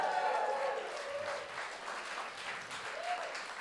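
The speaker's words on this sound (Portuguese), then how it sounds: "dê um aplauso a Jesus" A church congregation applauds during a sermon, steady clapping from a crowd filling the whole clip at moderate volume, with faint voices mixed in.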